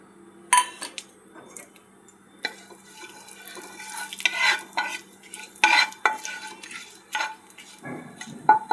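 Dried red chillies, whole garam masala and bay leaf hit hot oil in a kadai, giving a close, crackling sizzle broken by repeated sharp clinks and scrapes of a spoon stirring against the pan; no talking.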